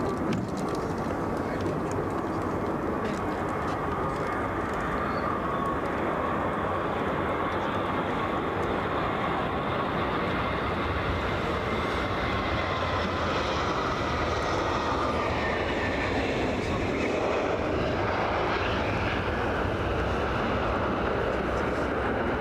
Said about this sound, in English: A400 is going to take off now.